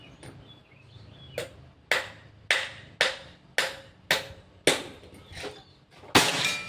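A series of sharp, snappy air rifle shots, a Predator Pajero Gen 6, at roughly steady intervals, about nine in all, each a crisp crack with a short decay, the last one loudest.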